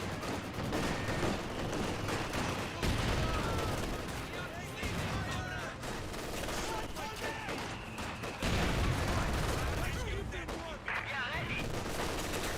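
Sustained battlefield gunfire and explosions from Company of Heroes 2, with MG42 and Maxim machine guns, a possible incendiary mortar and a Pak 40 anti-tank gun firing, dense and continuous throughout without pause.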